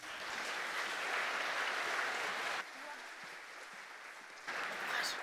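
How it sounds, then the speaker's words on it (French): Audience at a talk on AI applauds a presenter, a continuous wash of clapping at moderate distance that dips briefly in the middle before swelling again. "Applaudissez bien Cécile."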